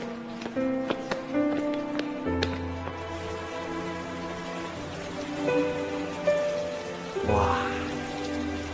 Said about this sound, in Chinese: 正好赶上一场大雨。